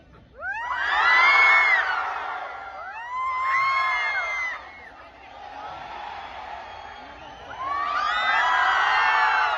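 Crowd at a Cumilla gathering shouts in repeated swelling waves following a leader's hand, loud bursts alternating with a quieter murmuring stretch before a final strong surge.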